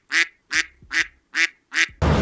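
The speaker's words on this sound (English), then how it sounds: "And is it just me, or is John actually starting to kind of sound like a duck?" A duck quacks five times in a steady, evenly spaced rhythm, each quack loud and close, before a sudden burst of broad noise cuts in at the end.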